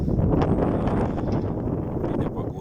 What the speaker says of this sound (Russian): Да очень сильный ветер.